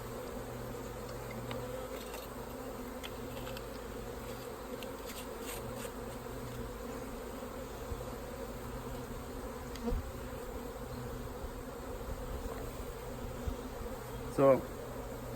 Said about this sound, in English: That's about 300 bees, and then pour them into your other cup.